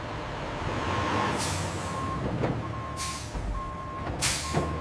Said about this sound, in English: Refrigerated trucks arrive to transport the goods.